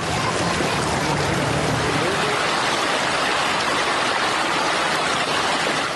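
Heavy monsoon rain pours down on a flooding Pakistani city in a dense, constant roar, loud and unbroken throughout.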